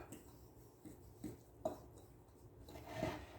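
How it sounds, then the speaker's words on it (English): A spoon scraping and stirring through a cheesecake crust mixture in a bowl, a few soft, irregular scrapes and knocks close by, fairly quiet with no talking. "Now, I'm going to stir this up."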